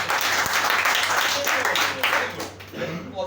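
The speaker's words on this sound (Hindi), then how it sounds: "इनके लिए एक बार जोरदार ताली होना" Applause and clapping fill a college centre event hall, a steady dense wash of many hands that stays loud for a few seconds before thinning slightly near the end.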